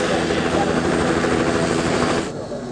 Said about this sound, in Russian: С бразильской стороны эти вот вертолеты летают над водопадами Игуасу.